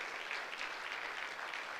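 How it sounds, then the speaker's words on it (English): An audience at a maiden graduation ceremony of a school of government breaks into brief, dense applause, a steady wash of many hands clapping together without voices. "A round of applause for everyone who is here."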